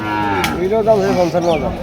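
A cow moos loudly and close at a village cattle market in Comilla, one long drawn-out bellow with wavering pitch that fills the moment, a brief sharp click near the start.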